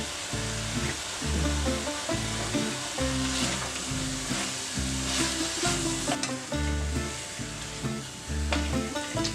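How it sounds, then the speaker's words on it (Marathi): Malvani chicken curry with garam masala frying on high flame, a loud, dense sizzle with repeated scraping stirs of the spatula, close and continuous throughout with no voices. "आणि त्यानंतर मग आता आपण हाय फ्लेमवर परतत आहोत."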